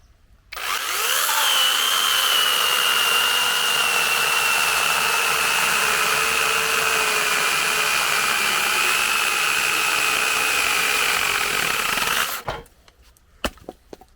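DeWalt cordless mini chainsaw cutting through thicker wood, a loud, sustained high-pitched whine of chain and motor biting into the log for about twelve seconds, then stopping abruptly followed by a few faint knocks.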